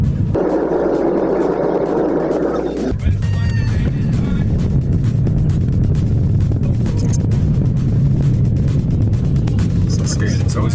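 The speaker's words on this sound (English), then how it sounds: "We are going to do an uphill test to test the performance of the engine together with the transmission." A car engine pulls uphill during a performance test of the engine and transmission, with a loud sustained drone and road rumble after an opening stretch of steady humming, continuing unbroken to the end.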